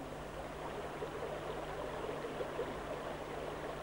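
The small stream Potok Jeleśniański flows with a soft, steady babble and gurgle, faint and continuous, with a low hum underneath and no talk.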